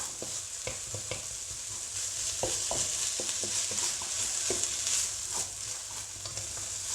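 Ginger and onion stir-frying in a pan for black pepper beef hiss in a continuous sizzle, punctuated throughout by irregular spatula taps and scrapes against the pan.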